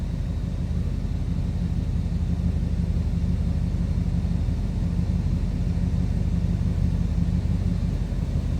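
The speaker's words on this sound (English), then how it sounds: "Little rumble coming out of that 390, nothing crazy over the top, too loud, just a nice sounding car." A 1965 Mercury Monterey Marauder with its 390 V8 idles steadily, giving a smooth, low, even rumble at close range that never rises or falls and carries no voices.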